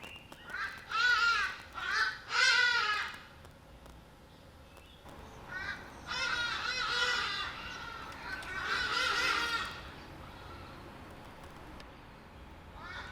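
Loud, harsh honking calls come from hadeda ibises in a Johannesburg backyard, rising in several raucous bursts over faint background ambience. One pair of calls is heard early and another longer series follows.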